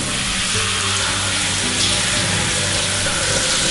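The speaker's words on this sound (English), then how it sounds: "get out of the shower" Water from a shower runs in a continuous dense hiss, loud and steady throughout, with no voices over it.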